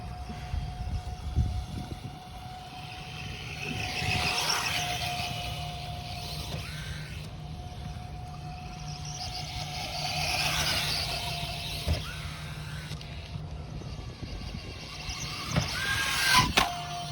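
A Losi Promoto RC motorcycle runs hard and fast: its motor gives a high whine that swells and fades as it speeds past, then sharp knocks come near the end.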